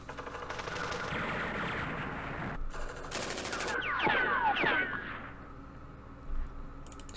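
Rapid machine-gun bursts and rattling small-arms fire from the wargame Campaign Series Middle East, loud and close, arriving in dense volleys with brief pauses between them.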